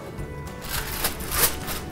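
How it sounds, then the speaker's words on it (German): Foil being peeled off a baking dish of French toast casserole with berries, a short close crinkling rustle that swells and fades over a couple of seconds. "So, wir haben die Folie abgezogen."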